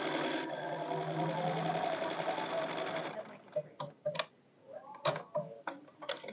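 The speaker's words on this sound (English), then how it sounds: "Hopefully they can hear me while I'm sewing." A sewing machine runs a steady, rapid stitching whirr for about three seconds while sewing a quilted envelope pillow back, then gives way to scattered clicks and handling noises as people talk nearby.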